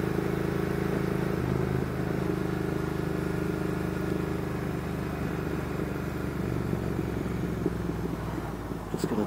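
Triumph Thruxton R motorcycle, decatted and fitted with aftermarket end cans, droning steadily at a constant loud rumble while riding, a continuous engine tone with no talk over it.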